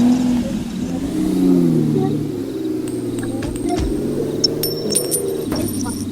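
A car in the School Party Craft video game gives a steady mid-low engine hum with faint clicks and tonal game sounds, continuing for several seconds.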